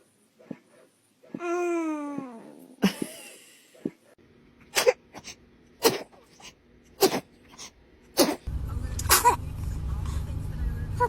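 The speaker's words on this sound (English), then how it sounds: "Is that you trying to sneeze?" A baby makes little sniffing, breathy bursts while trying to sneeze, along with babbling sounds. Sharp clicks and rustles are mixed in, and a background hum rises near the end.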